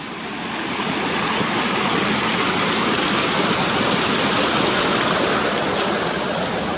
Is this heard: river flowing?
yes